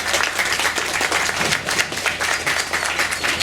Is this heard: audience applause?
yes